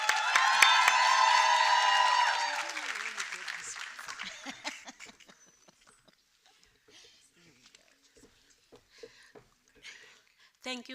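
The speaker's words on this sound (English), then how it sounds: "So let's give this phenomenal lady a wonderful round of applause." Brief burst of audience applause at a women's empowerment conference, loud at first and then fading quickly into scattered claps and quiet room noise.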